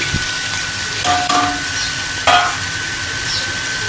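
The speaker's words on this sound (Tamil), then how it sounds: "இப்போ நான் அந்த கேப்சிகம் போட்டுக்கிறேன் மூணு கலர் கேப்சிகம்" Three-colour capsicum drops into a hot pan of healthy-style Maggi noodles, giving two brief clattering hits over a steady sizzle, with a spoon scraping and stirring between them.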